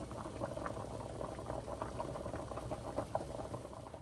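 Potatoes boil in a pot of water with a soft, continuous bubbling and light rattling, quiet and steady throughout with no voices.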